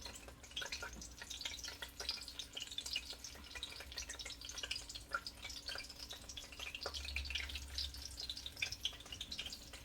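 Oxtails sear in a hot oiled pan, a continuous close sizzle with crackles and small pops, with a faint steady hum beneath and a brief low rumble near the end.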